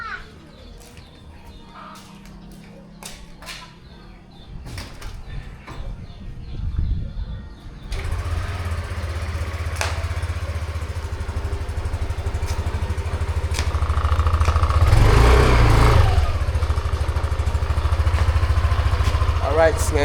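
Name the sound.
Yamaha NMAX scooter engine idling while warming up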